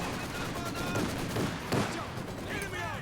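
Machine guns fire in Company of Heroes 2, with rapid bursts of distant rattling gunfire layered over a busy battle background, a few louder cracks standing out.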